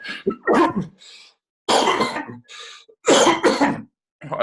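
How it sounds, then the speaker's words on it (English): Several short, raspy coughs or throat-clearing bursts in quick clusters, separated by brief pauses, close and fairly loud. "Sorry about the cough."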